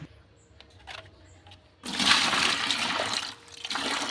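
Half a litre of water poured over oil cake in a container to soak it as plant fertilizer, a close, steady rushing splash that starts abruptly after a quiet moment and runs on to the end.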